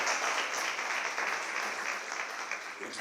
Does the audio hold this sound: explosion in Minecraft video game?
no